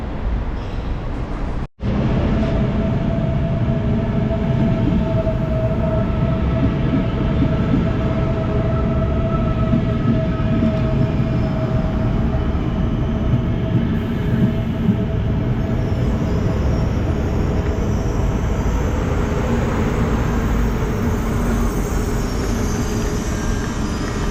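A train rumbles steadily along the tracks, a loud continuous low roar with a faint tonal hum, heard from inside a carriage without talk.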